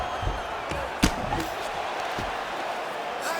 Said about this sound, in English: these are some serious power punches from the top by Lee